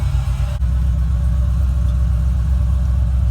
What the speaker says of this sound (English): Sounds like it idles a lot better.